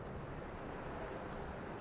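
Steady wind gusting across the island landscape in the video game Dear Esther, a constant broad rushing hiss close to the listener with no voices.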